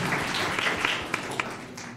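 A round of applause for the archery team's parents at a school district governing board meeting: brief, moderate clapping from a modest audience in a meeting room, fairly close and steady over a couple of seconds.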